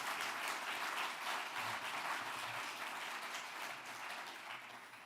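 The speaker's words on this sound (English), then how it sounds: "I guess a round of applause, of course." An audience at an open source awards event gives a round of applause, even steady clapping heard at a slight distance that fades slightly toward the end.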